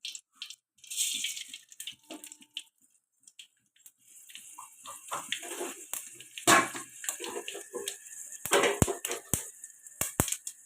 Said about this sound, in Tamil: கடுகு பொரிஞ்சதும்